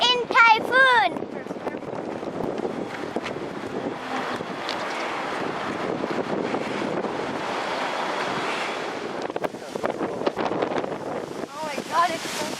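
Strong typhoon wind in Kobe, Japan roars continuously and buffets the microphone, with gusty rushing noise throughout and a person talking briefly over it.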